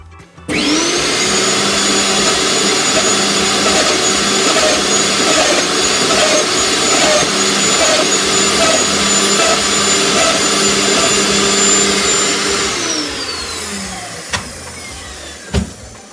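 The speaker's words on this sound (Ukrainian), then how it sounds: "Зараз налаштовуємо і починаємо подрібнювати." A Hyundai HYCH 2800 electric branch shredder runs loud and close with a high steady whine as it chips branches, holding an even drone for about twelve seconds before spinning down, followed by a couple of sharp knocks.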